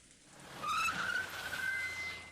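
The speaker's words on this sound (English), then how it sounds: "However, they came at me with a screeching sound and stopped right in front of me." Car brakes screech as a sound effect in the visual novel Umineko, a single loud high-pitched skid rising in and holding for about a second and a half before tapering off.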